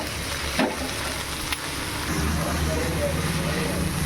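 Spinach and onions sautéing in a pan give a low, steady sizzle with a few sharp scrapes of stirring, and the hiss grows slightly fuller toward the end.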